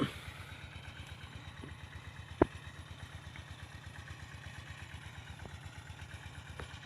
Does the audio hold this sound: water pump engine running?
yes